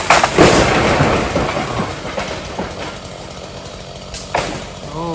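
A cut tree crashes down after chainsaw felling of a dead, dangerous tree: a loud, rumbling crash and crackle of breaking wood up front, fading into lighter snapping and rustling, with a brief sharp crack near the end.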